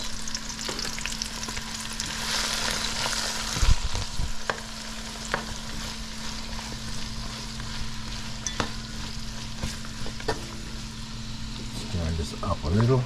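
Aromatics sauté in avocado oil in a pan for a callaloo bhaji with dried shrimp, giving a steady close sizzle under a low hum, with occasional stirring knocks and a clatter near the end.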